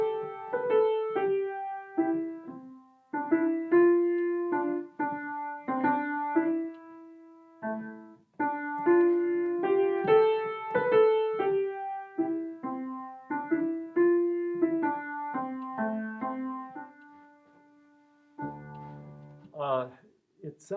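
A carol melody played in Dorian mode on a keyed instrument, a steady stream of sustained, overlapping notes in a slightly archaic-sounding tune, ending with a brief change of texture.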